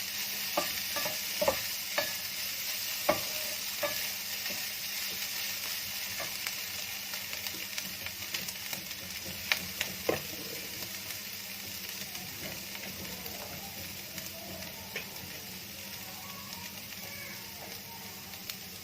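A spoon stirs a bread-roll filling frying in a pan, with a steady soft sizzle throughout and scattered light scraping clicks from the stirring, close and quiet, no talking.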